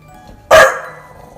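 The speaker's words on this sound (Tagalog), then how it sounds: "ang pagkahol ng kanyang aso habang nakatingin sa kabilang kwarto" A house dog gives a single sharp, loud bark indoors, aimed toward another room, after a quiet stretch, with a short ringing decay afterward.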